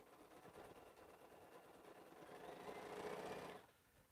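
A sewing machine runs steadily while stitching tiny quilt pieces, a continuous close mechanical whir that swells louder toward the end before stopping abruptly.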